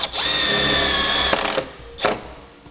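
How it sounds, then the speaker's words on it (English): A power drill drives a self-tapping screw into two-layer vehicle sheet metal, a close whining spin-up for over a second that ends in a grinding clatter as the screw seats, then one short follow-up burst. "That just gives more for our self-tapping screw to dig into, keep it nice and tight."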